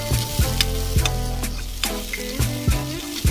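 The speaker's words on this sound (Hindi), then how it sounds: "इसको बीच बीच में चलाते रहेंगे और भूनते रहेंगे" Corn kernels being stirred and roasted in a pan, with steady sizzling and a few scraping strokes of the spatula recurring about every half second, close and fairly loud, no talk.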